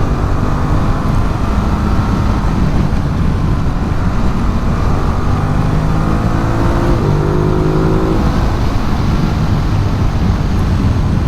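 A 2021 Ducati Multistrada 950 S motorcycle on a test ride, with a loud, continuous engine roar mixed with rushing wind noise and a few shifting tones as revs rise and settle, no voices heard.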